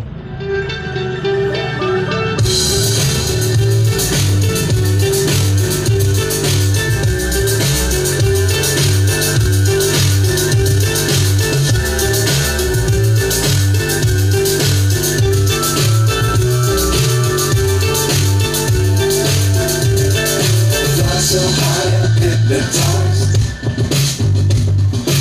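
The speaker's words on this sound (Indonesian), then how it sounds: "Kita play dulu musiknya di sini." Continuous pop music with a steady beat and bass plays loudly through a Polytron Paspro 15F3 portable speaker, filling the full range with no pauses.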